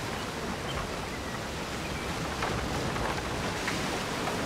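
A steam paddle ship in Napoleon Total War gives a steady, broadband wash of churning water and wind-like rush, continuous and even in level with no voices.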